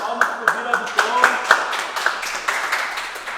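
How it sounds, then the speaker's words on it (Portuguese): Audience clapping for Bira do Tom at a live programme, a run of sharp rhythmic claps from a small crowd, close and fairly loud, with voices talking over them. "Uma salva de palmas para o Bira do Tom"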